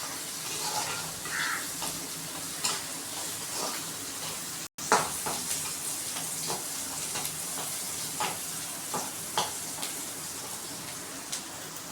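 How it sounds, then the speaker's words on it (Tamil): Onions sautéed with a sprinkle of salt in a pan for masala macaroni give a steady, soft sizzle with faint scraping stirs throughout, close and continuous, broken by a brief silent gap. "இப்போ நல்லா வதக்கிக்கோங்க."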